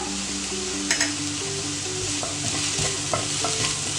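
Sautéed onions with turmeric stirred in a pan for an egg curry: a loud continuous sizzle with repeated scraping strokes of a spoon against the pan, steady and close, with no talking.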